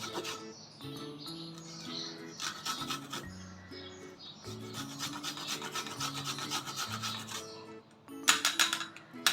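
Fresh ginger is grated for a homemade cough remedy with a steady rasping scrape that repeats in short strokes, sitting under louder tonal background music throughout.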